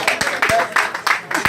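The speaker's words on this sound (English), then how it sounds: "Well, clap now." Audience clapping at an annual general meeting, heard as a close, loud run of rhythmic bursts about three times a second, mixed with voices.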